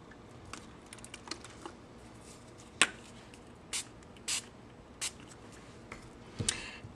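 Several short, soft hissing spritzes from a spray bottle misting tissue paper scallops for flowers, scattered irregularly among light tapping and handling noises, close by and otherwise quiet.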